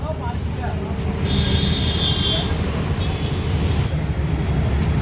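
A small Mahindra tractor's heavy engine rumbles steadily, building slightly as it passes close by, with faint voices in the background.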